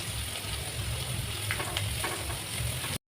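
Chopped onions and crushed garlic fry in a pan with a steady, soft sizzle and faint stirring, close but quiet, stopping abruptly at the end.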